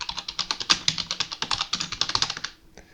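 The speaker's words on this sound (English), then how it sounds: "So type in your text here, right?" Rapid, even keystrokes on a computer keyboard, close and crisp, a steady run of about twenty clicks over two and a half seconds that then stops, with no talking.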